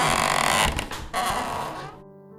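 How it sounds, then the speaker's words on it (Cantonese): Fingernails drag slowly across a wooden door in a loud, close scrape that swells, breaks, then resumes in a second stroke before stopping abruptly. "嗰啲聲好似有人用指甲喺木門上慢慢一下一下咁劃。"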